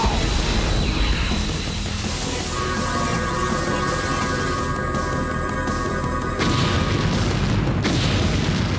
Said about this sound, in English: VR Techno Bazooka command now!